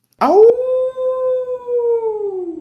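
A person imitating a wolf howl: one loud, close, sustained voiced howl that rises sharply, holds a long steady tone and slowly fades.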